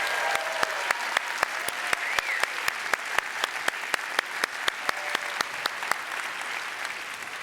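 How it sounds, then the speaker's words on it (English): An audience applauds a string quartet, the Pro Arte Quartet, at a concert: steady, fairly soft clapping from a seated crowd, with sharp individual claps standing out at a regular pace throughout. "Ladies and gentlemen, one more round of applause for the Pro Arte Quartet."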